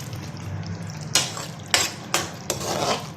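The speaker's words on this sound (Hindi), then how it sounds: "हम मज़ीद इसको 2 मिनट के लिए पकाएंगे, अच्छे तरीके से भून लेंगे" Aloo gobhi fries in a pan as a utensil stirs it in four sharp scraping strokes, each a quick clatter against the metal over a soft, steady background sizzle, close by and with no voices.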